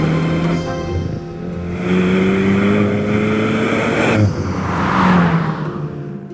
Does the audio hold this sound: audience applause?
no